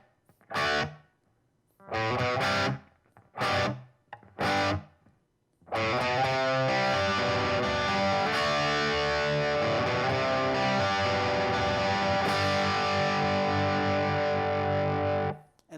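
Distorted electric guitar plays the chorus and solo parts of a song, starting with a few short separated chord stabs and then ringing into a loud, continuous driven rhythm with no voice over it.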